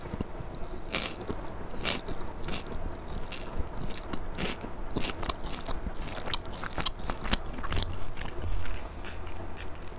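Food is crunched and chewed close to the mic during an ASMR mukbang, with steady, rapid crackling bites and sharp crisp snaps repeating throughout, no talking.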